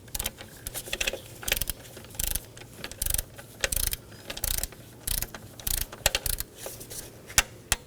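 A ratcheting torque wrench tightens oxygen sensor bolts on a 2015–2023 Nissan Maxima. Short bursts of close mechanical clicking repeat in an irregular rhythm, with quiet gaps between.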